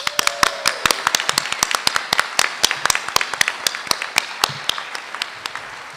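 Audience applause for high school graduates at a 2024 graduation ceremony, a steady run of sharp, close hand claps rising and falling in density across the whole span, with no talking over it.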